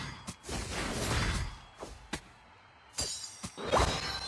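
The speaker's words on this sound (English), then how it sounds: "I love the Icy Wind sound effect" Icy Wind attack effect in the Pokemon Unite video game, a string of crisp icy shattering cracks and whooshing bursts at irregular intervals, fairly quiet.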